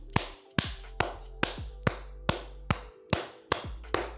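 Hand clapping, about ten sharp claps in a slow, fairly even rhythm, close and clear with no talk.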